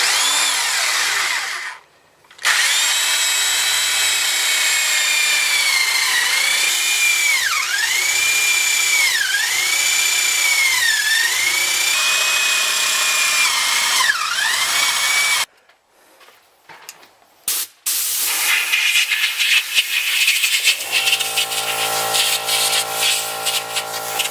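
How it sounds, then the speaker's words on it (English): A power drill with a paddle bit whines through wood in long sustained runs, pitch dipping as it bites, with brief pauses and a rougher grinding burst near the end. "Okay, I pre-marked my holes, and then we'll just start drilling."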